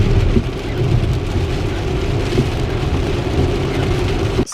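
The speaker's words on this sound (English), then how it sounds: "So it's raining." Heavy rain pouring steadily around a Tesla, a dense continuous hiss and patter of drops on the surface, loud and close with no talking.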